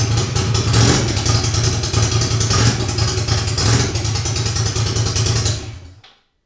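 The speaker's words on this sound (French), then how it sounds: "Et le moteur démarre et ça c'est une super surprise" A cheap Ducati motorcycle engine, just rebuilt, idling steadily with a loud, close, even throb for several seconds before it suddenly shuts off.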